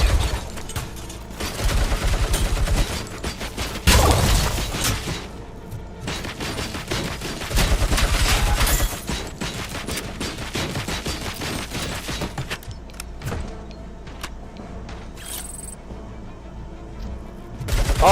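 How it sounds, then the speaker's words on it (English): Heavy anti-tank sniper rifle fire in Robocop: Rogue City, sustained thunderous volleys with booming shots and rattling automatic bursts, loud and close, easing toward the end. "The snipers, they're frickin' anti-tank rifles."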